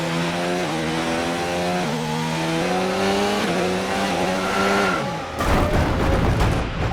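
A Formula One car's engine in the F1 2019 racing game howls steadily through rising and falling gear changes, then gives way to a sudden loud, harsh burst of noise near the end.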